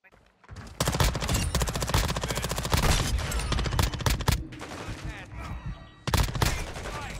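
Rapid bursts of BAS-P submachine gun fire crackle loudly in a Call of Duty match, several sustained automatic strings broken by brief pauses, with a voice faintly underneath.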